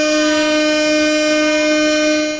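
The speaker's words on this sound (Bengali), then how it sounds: "আমার ট্রেন স্টার্ট দিয়ে দিচ্ছি" A train horn sounds as a train starts up in Train Simulator Bangladesh, a sustained loud tonal blast with stacked harmonics held steady for about two and a half seconds before trailing off slightly.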